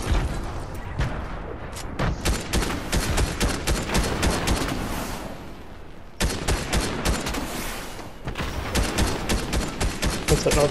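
Rapid bursts of gunfire in Fortnite played in VR, dense and loud, with short gaps between volleys and a brief drop near the middle, heard alone without talk.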